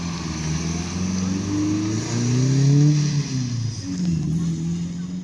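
An old Ford Transit van at a classic car meet at a country inn pulls away, its engine note rising and falling as it accelerates off, fairly close and loud, with no voices over it.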